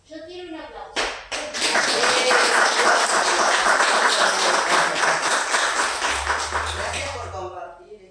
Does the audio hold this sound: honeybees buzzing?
no